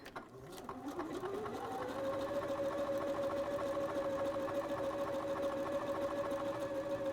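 A domestic sewing machine stitches a buttonhole on its own, whirring up and then holding a steady, loud mechanical hum with fast regular needle clatter; people talk faintly at the start.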